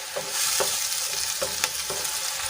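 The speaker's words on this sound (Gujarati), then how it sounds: "હવે એમાં આપણે બે મોટા ટમેટાની પ્યુરી એડ કરીશું અને સરસ રીતે આપણે એને ડુંગળીમાં મિક્સ કરી લઈશું" Tomato purée being stirred into sautéed onions in a pan, a soft constant sizzle broken by several rhythmic spoon scrapes, close and unaccompanied by speech.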